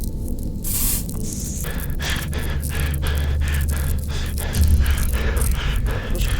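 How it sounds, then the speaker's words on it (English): A chemi spray canister in a video game releases a steady hissing spray that runs for several seconds over a low background hum, with short clicks and rattles scattered throughout. "it looks like Chica needs another dose of the chemi spray"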